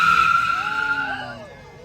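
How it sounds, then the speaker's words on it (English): A Honda Civic does a burnout at a nighttime car meet, a loud, sustained tire squeal sliding in pitch and slowly fading, with engine noise and crowd voices mixed in. "Burnout. Civic."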